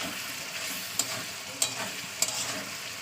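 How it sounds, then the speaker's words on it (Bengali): Potatoes and pumpkin sautéed in a pan of meat masala with oil separating, a continuous soft sizzle broken by three sharp scraping stirs of the spatula at regular intervals, with no voices. "এবার আমি এতে সমস্ত আলু কুমড়ো সব দিয়ে কষিয়ে নেবো।"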